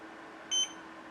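A single short electronic beep from the timer button on a HONMICON mini dehumidifier, a clear high tone lasting about a tenth of a second over a quiet room background.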